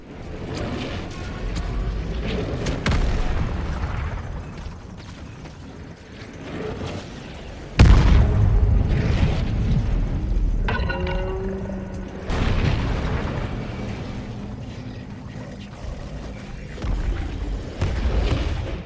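A firing sequence in Helldivers 2 pounds the Illuminate Overship with heavy explosions, a sharp blast followed by rolling booms and mechanical whirring layered over a dense, continuous battle rumble.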